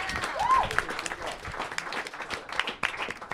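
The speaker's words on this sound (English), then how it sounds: "They deserve a round of applause." Applause from a crowd at a charity telethon, a dense patter of clapping with a brief whistle near the start.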